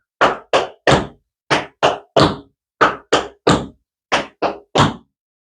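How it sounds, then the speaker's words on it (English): Tap shoes striking a hard floor in evenly spaced groups of three crisp taps, repeated four times with short pauses between groups. "Let's do our 3-count riff walk with a nice even rhythm, sounds separated."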